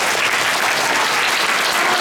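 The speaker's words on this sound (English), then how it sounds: "So let's give them a nice big clap," Audience applause for a children's drama club after a Charlie and the Chocolate Factory performance: dense, steady clapping from a crowd, loud and close, filling the whole stretch without talk.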